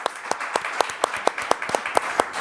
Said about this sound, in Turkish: Bir de annesine alkış versin bakalım şöyle kuvvetlisinden.